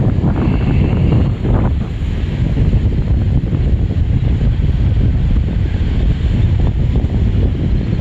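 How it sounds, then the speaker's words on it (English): Strong wind from approaching Hurricane Barry buffets the microphone continuously on a boardwalk in Biloxi, Mississippi, producing a loud, rough rumble with no pauses. "It's just really windy."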